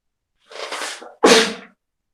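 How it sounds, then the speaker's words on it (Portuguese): A single sneeze, a breathy intake followed by a sharp burst, close and alone in silence. "Acabou vindo uma vontade de espirro agora."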